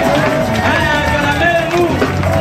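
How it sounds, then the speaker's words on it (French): A church congregation cheers and applauds in praise of God, a dense, loud wash of clapping, shouts and crowd voices filling the whole moment without a break. "Acclamez maintenant pour le Dieu, le Créateur du ciel."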